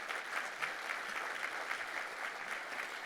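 An audience applauds at a downtown civic awards event, a steady, moderately distant wash of many hands clapping with no talking over it.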